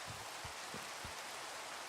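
Rain falls in the RealmForge fantasy game as a quiet, steady hiss, with a few soft low thumps of drops landing over the brief stretch.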